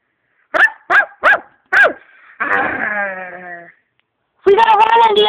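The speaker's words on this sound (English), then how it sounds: "Look, there's a giant dog!" A giant dog gives four quick barks, followed by a long drawn-out howl and then a loud bleating cry, close and loud with silent gaps between them.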